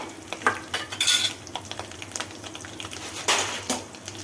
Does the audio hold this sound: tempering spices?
yes